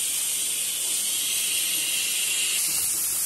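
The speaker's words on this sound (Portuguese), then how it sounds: "Vou deixar aqui o bacon fritar." Bacon browning in a pan on a home stove, giving a steady, bright frying sizzle with dense crackle and hiss throughout, close and constant with no one talking.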